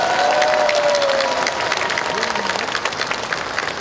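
A large crowd of Democratic Party delegates at a Gwangju city convention claps loudly and steadily for the party leadership candidates, the dense applause thinning slightly toward the end while a few voices call out beneath it.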